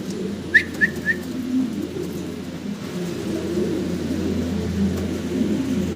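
Fancy pigeons at a Bangladeshi pigeon breeder's coop give a few short, whistly bird calls early on, then a steady low hum of background noise with distant activity fills the rest, with no talk.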